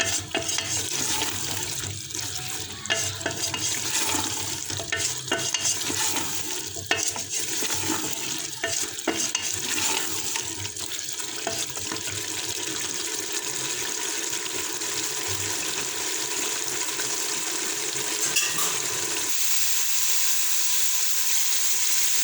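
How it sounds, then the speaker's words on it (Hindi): Black chickpeas roast in oil in a pan, giving a dense, continuous sizzle and hiss with steady stirring and scraping throughout, close and without speech. "आपने इनको अच्छी तरह भूनना है।"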